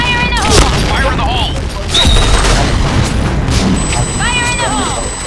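Blasts from a grenade in a shooting video game crack out amid steady gunfire and effects, with several booming hits across the span while players chatter loudly over the action.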